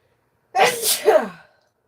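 A single sharp sneeze sounds up close in a quiet room, with a quick two-part burst lasting about a second and then silence.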